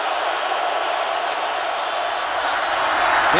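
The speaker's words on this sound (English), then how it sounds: "To handle this crowd noise here in Seattle." Dense, roaring football stadium crowd at a Seattle Seahawks home game against the Denver Broncos, a steady loud wash of noise filling the whole clip without letup.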